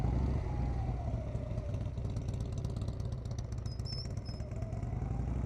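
A motorcycle ridden at slow speed during a practice session holds a steady, close engine drone with a slight rise and fall in pitch, with faint mechanical clatter and no talk.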